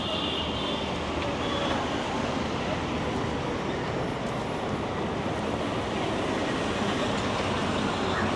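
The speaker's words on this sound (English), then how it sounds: "Insane trains." Trains pass through Mumbai in a dense, continuous roar of rail noise, with broadband rumble and rattling carriages that stay loud and steady from start to finish.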